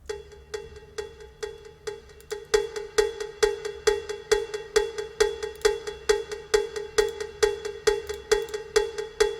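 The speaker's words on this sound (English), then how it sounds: "It's just a cowbell sound with some room sound on it" A cowbell struck in a steady, even rhythm, each hit ringing out with a roomy reverberant tail; no voices.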